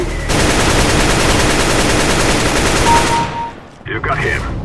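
Rapid, sustained gunfire from a CS:GO match pours out at close range for about three seconds, cutting off abruptly before a few shorter bursts and clatters; no voices.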